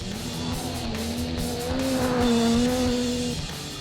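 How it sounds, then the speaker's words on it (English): A rally car drives hard on an off-road course, its engine note rising and falling steadily close by, with tire noise underneath and no talk. "This is my first real experience inside a rally car."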